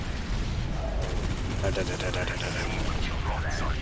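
A missile barrage in the strategy game Dawn of War: Ultimate Apocalypse, a dense rumbling wash of rapid launches and blasts over continuous battle noise.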